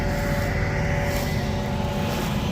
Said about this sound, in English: frozen tractor tires on concrete kind of makes for one of these.